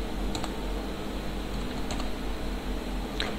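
A computer keyboard is typed on to enter a chmod command in Linux, a few sparse, light key clicks in small clusters over a steady low hum, with no talking.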